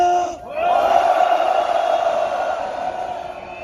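A crowd of farmers at an outdoor rally against high-voltage transmission towers lets out a loud, sustained roar of shouting and cheering that swells suddenly and holds steady for several seconds.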